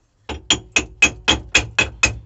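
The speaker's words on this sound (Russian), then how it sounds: "Теперь забиваем шлак изнутри молоточком." A small hammer knocks welding slag off the inside seam of a welded axe, eight sharp metallic strikes in an even, steady rhythm, close and loud with no talk.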